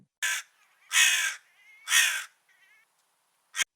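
A crow in an animated children's story caws three times in loud, harsh, evenly spaced calls, close and clear against silence, followed by a brief clipped sound at the end.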